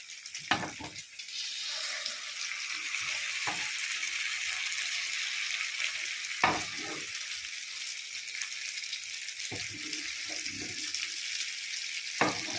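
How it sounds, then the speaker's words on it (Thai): A Thai omelette (khai jiao) fries in hot oil with a steady bright sizzle, broken by occasional knocks and scrapes of a utensil against the pan, close and alone with no voices. "ไข่เจียวสูตรเด็ดก่อนออกทำงาน"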